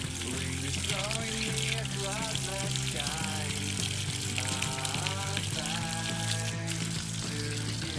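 Water runs steadily from a tap on a newly installed well pump system, a continuous splashing, hissing flow that stays fairly quiet and even throughout, with a voice faintly in the background.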